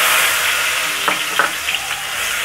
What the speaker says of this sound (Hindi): जीरा हमारा गोल्डन हो चुका है, अब हम इसमें प्याज ऐड कर देंगे।